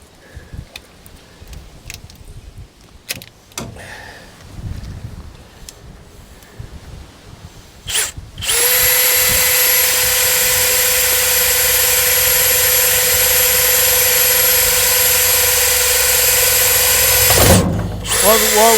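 A power drill whines loud and close during a camper trailer fridge installation, starting after some knocks and handling noises, holding a steady high pitch for about nine seconds before stopping abruptly.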